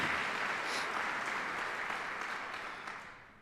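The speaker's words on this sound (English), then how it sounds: "Let's give him a round of applause, please." A crowd at a military change-of-responsibility rally applauds the outgoing Senior Enlisted Advisor to the Chairman, "CZ": dense, steady clapping that fills the room, then slowly thins and fades toward the end.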